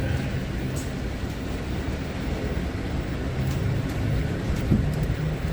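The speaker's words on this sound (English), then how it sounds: "Ah, what a nice ride. It's like the Cadillac of buses." A New Flyer city bus rolls along Montreal STM route 160 with a steady interior road rumble and faint rattles throughout the ride.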